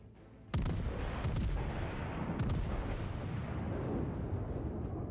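In World of Warships, the battleship Missouri fires naval gun salvos: several heavy booms in quick succession, followed by a sustained low rumble of further gunfire.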